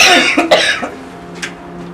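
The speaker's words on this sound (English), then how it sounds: "Have you got a cough at the moment, or have you got a cold or anything?" A few sharp coughs in quick succession close to the listener, followed by a fainter throat-clearing cough, in a quiet room.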